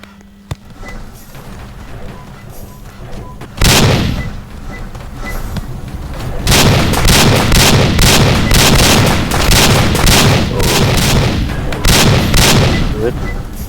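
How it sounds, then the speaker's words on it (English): A gun fires in rapid, repeated bursts, loud and close. The shots come after a quieter opening and continue densely to the end. "Let's use my gun instead."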